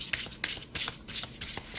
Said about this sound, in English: I can shuffle it quite well